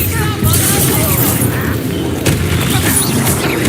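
A booming explosion from the Bombarda spell in Hogwarts Legacy, with layered rumbling blasts and crackling debris filling a short stretch of loud game combat.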